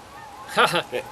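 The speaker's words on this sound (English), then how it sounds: "we got some geese saying thumbs up behind us" A few short honking calls from geese, somewhat distant, three quick bursts over a quiet background.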